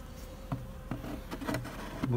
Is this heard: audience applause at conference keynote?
no